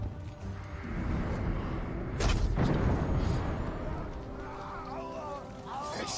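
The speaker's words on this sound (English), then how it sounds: "Explosion." A booming explosion in the video game Middle-earth: Shadow of War bursts out amid dense battle noise. It is loud and spread out, and voices and game sounds keep going around it.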